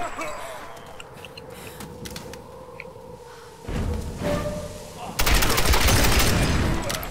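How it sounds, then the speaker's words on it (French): Rifle gunfire from the Tomb Raider video game: bursts of broadband shots in the second half, the loudest and densest near the end, over a low game soundscape. "Ah, il fait mal le fusil quand même."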